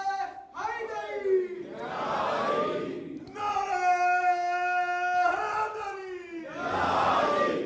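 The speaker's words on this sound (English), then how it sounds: "it's an honor when we hear Ya Ali in the crowd of the lovers of Ali ibn Abi Talib" A crowd at an Islamic history lecture chants Ya Ali loudly in unison, with long, drawn-out vocal calls rising in repeated waves that fill the hall.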